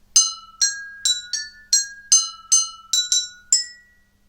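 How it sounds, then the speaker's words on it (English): About a dozen bright glassy pings struck one after another on a jam jar xylophone at a steady pace, each ringing briefly with different pitches like a simple melody. "is the jam jar xylophone"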